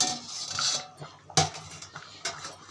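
A lid lifted off a pot of simmering fish curry: a couple of sharp metallic clanks and rattles close by, with a hiss of steam at the start.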